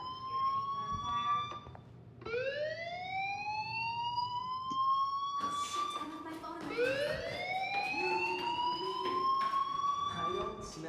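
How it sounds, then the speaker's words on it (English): A fire alarm wails in the video game Life Is Strange, its rising and falling electronic siren sweeping loudly and repeatedly over steady background noise. "do you hear that fire alarm? That means you should be outside."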